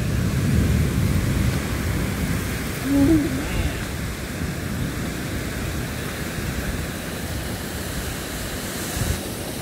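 Rain falls on an Illinois farm during a storm that brought hail, heard as a steady, dense rushing hiss that fills the whole stretch at fairly high volume.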